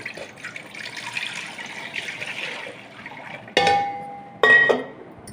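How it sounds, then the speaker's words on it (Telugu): Water pours steadily into an idli steamer to fill it with one litre, a soft continuous splash, followed by two louder bright metallic clanks near the end. "దీనిలో ఇడ్లీ పాత్రలో 1 లీటర్ నీళ్ళు పోసుకుందాం."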